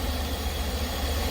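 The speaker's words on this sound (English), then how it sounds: "My engine is idling." A GM car engine idles after an ECM replacement, giving a steady low, even rumble with no talking.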